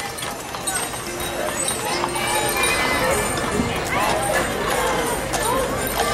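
Horses with sleigh bells pull a wagon in a small-town Christmas parade, their hooves clip-clopping on pavement amid crowd murmur and someone talking nearby.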